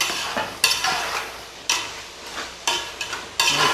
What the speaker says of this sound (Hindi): अभी इसको मिक्स करके इसकी भुनाई करेंगे, अच्छे से इसको मिक्स करते हैं।